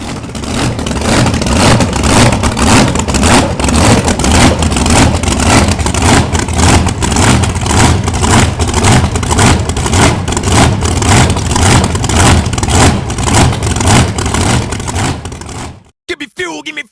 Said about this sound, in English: 16 of MTA's baddest monster trucks are ready to rip, roar, and let it fly